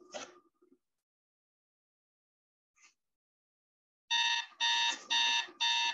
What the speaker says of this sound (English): The light flashing alarm clock came to life, waking Skylar and his dog with a start